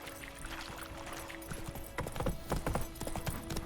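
Roach the horse gallops in The Witcher 3, a steady run of hoof clip-clops that grows louder and more pronounced in the second half over game ambience, with no talk.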